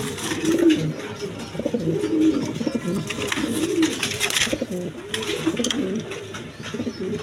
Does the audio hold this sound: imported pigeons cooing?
yes